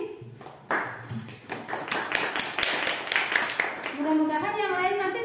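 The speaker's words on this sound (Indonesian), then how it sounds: "Silakan aplaus untuk Fitri dan Abdi." Students in a classroom break into a round of clapping for two classmates, a dense patter of many hands that builds and carries on before a voice starts speaking over its tail.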